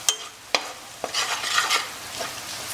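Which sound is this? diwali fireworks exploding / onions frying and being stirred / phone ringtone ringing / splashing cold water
onions frying and being stirred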